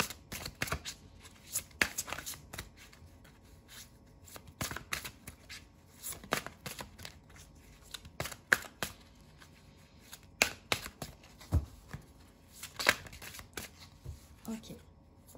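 Tarot cards are handled and shuffled in repeated quick riffling bursts, close and crisp, with pauses between shuffles.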